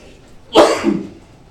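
One sharp sneeze bursts out at a council meeting, a sudden loud explosive blast with a short trailing exhale, heard alone against a quiet room.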